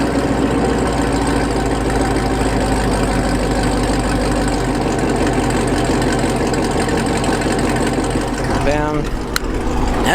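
A 2017 Chevrolet Camaro 2SS V8 idles steadily after a warm start, a dense, loud, continuous engine rumble that holds throughout, with a brief rising whine near the end.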